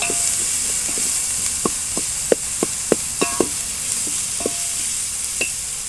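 Tomatoes fry with a constant hiss in a pan as a spatula taps and scrapes against the metal in a string of sharp, evenly spaced knocks, close and fairly loud, with no voices.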